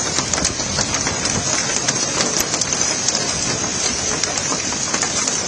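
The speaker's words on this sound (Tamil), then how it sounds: "நகரின் சில பகுதிகளில் கனமழையுடன் சேர்ந்து ஆலங்கட்டி மழையும் பெய்தது." Heavy rain mixed with hailstones pounding a city road during a storm in Delhi, a loud, dense and continuous hiss with scattered sharp ticks of ice striking the surface throughout.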